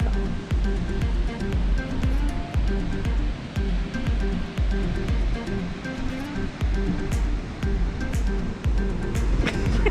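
Ocean surf rolling onto Opoutere beach on New Zealand's Coromandel coast, a steady broadband wash of breaking waves heard close and continuous, with no voices.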